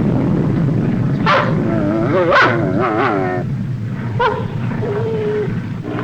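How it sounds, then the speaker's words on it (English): A bird dog yaps and whines close by in bad weather, with several high yelps and drawn-out whimpers over a rumbling background. "What's all this yapping and whining about? Don't you like being a bird dog?"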